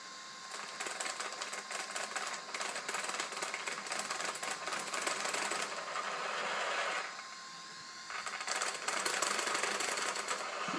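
A Traxxas RC car with a Velineon VXL-3s system makes a harsh, dense rattling buzz from its juddering drivetrain, loud and continuous, dipping briefly to a smoother whir before the rattle returns.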